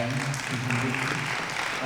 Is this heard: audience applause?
yes